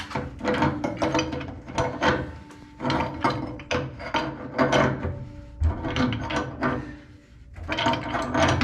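Water heater fittings being cranked tight with a wrench, a steady series of repeated ratcheting and scraping strokes, close and fairly loud with short pauses between turns.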